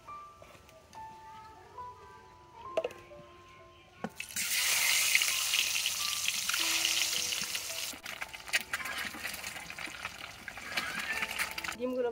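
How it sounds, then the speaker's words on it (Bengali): Quail eggs frying in oil with turmeric give a loud, steady sizzle that bursts in a few seconds in and carries on. Quieter kitchen clatter and a little talk come before it. "প্রথমে কোয়েল পাখির ডিমগুলো তেলের ভিতরে একটু হলুদ দিয়ে ভেজে নেব।"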